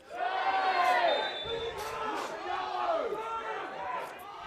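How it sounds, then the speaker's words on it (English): A restless crowd at an amateur football match between Brunswick Juventus FC and Boroondara-Carey Eagles FC, a loud jumble of many voices shouting and jeering together with overlapping calls rising and falling. "Crowd getting restless."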